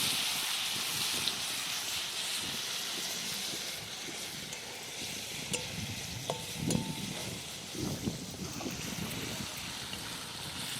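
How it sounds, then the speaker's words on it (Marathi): Green chili and garlic paste with salt fries in hot oil, making a continuous soft sizzle under low background noise, with a few light stirring scrapes and clicks toward the end. "चांगली मिरची तळून घेतली"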